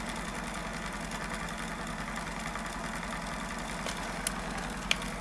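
A U-core motor turning at about 630 RPM gives off a steady, faint, low mechanical hum with a constant rhythm and a couple of brief small clicks near the end.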